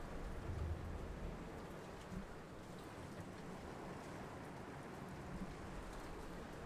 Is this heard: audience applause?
no